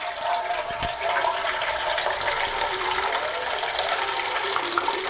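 Water runs steadily from a tap for several seconds, a continuous close splashing rush with no talking.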